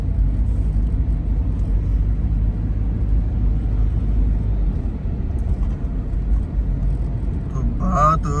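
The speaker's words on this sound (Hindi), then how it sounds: "ये जो गाड़ी जा रही है ये है तो कोई सरकारी गाड़ी" A vehicle rumbles steadily on a city street in Saudi Arabia, a loud, low road drone that holds for several seconds, with traffic noise around it and a voice speaking near the end.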